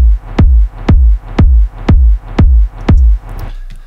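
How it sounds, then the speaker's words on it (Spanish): Seven heavy, distorted electronic kick drum hits from a Kick 2 preset pound at an even tempo in an EDM beat, each with a gritty, booming low thump and a dirty tail. "Es un kick bastante abrasador, distorsionado, sucio"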